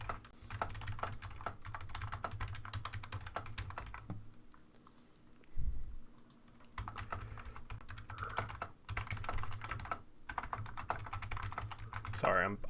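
Rapid computer keyboard typing, a steady stream of dense clicks and key hammering running nearly throughout, pausing briefly around the four and ten second marks, with a low hum in the background.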